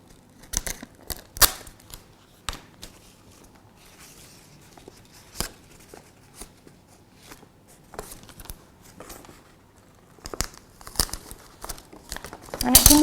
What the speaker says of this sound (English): I'm going to cut off some wide tape for that.